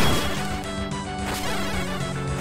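Hookshot striking a Manhandla boss in the Zelda Classic game, a dense run of repeated crashing, whacking hits layered over busy game music, loud and continuous for a couple of seconds.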